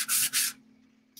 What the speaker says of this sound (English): I'm just going to like sand it off.